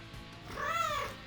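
A single drawn-out cat meow rises and falls in the Princess Evangile visual novel game, faint and clear over a quiet background.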